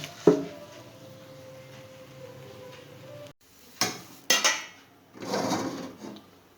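A spoon scrapes and clanks in a pot while a sour-sweet chalta (elephant apple) pickle mixture is mixed by hand, with scattered metallic knocks and a few louder clatters and scraping bursts near the end.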